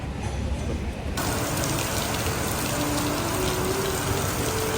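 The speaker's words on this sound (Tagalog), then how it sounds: "Pumapatak na naman ang ulan sa bubong ng bahay." Steady rain pattering on a house roof, a dense continuous hiss of drops that grows fuller after the first second, close and fairly loud with no voices.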